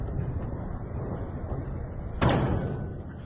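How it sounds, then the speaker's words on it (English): At night a drone slams into an oil depot: a low, steady rumble is broken by one sudden, sharp impact thud with a brief burst of noise that fades back into the background. "we could definitely hear that drone coming in at night and then eventually slamming into one of these oil depots"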